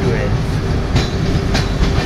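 Dhauli SF Express train pulling out of Khurda Road, heard from inside as a loud steady rumble of wheels on rails with a couple of rhythmic clacks.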